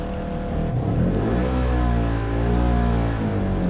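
Polaris General XP 1000 side-by-side, Troy Lee Edition, engine revving up twice, a low, steady mid-pitched drone close by with no talk.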